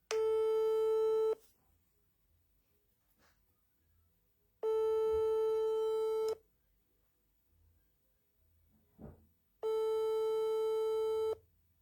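A telephone busy signal on a call with a poor network connection, three long steady tones separated by pauses of near silence with faint background rustle between them.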